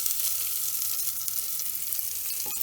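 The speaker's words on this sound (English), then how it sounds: "and fry it for a minute on medium flame" Green peas frying in a pan over a medium flame alongside golden cashews for pulao, giving a steady close crackling sizzle with a few light clicks near the end.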